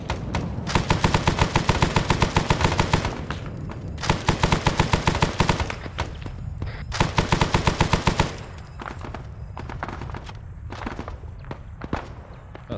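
Machine gun fire in the video game Arma 3: loud, rapid sustained bursts separated by short pauses, followed by scattered single shots and more distant gunfire.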